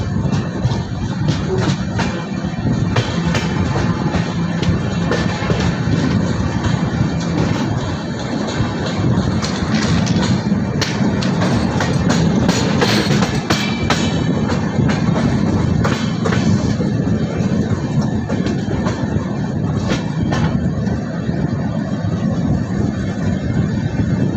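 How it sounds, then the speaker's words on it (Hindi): A passenger train runs through the Budhni ghat section, heard from on board as a steady, loud rumble and rattle of the carriage throughout, with scattered clanks from the wheels and couplings. "इस समय हमारी ट्रेन चल रही है सुप्रसिद्ध बुधनी घाट्स में।"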